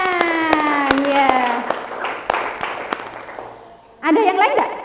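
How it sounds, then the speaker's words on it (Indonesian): Students clapping in a religious studies classroom, heard as sparse, spaced claps in a loose rhythm beneath a talking voice, followed by more voices near the end. "Bagus, tepuk tangan."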